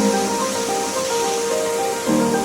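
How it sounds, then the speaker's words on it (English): A river rushes through forest in Royal National Park near Sydney, a loud, steady broadband wash of flowing water with a faint tonal hum layered over it, no voices. "there is a river flowing through this Royal National Park"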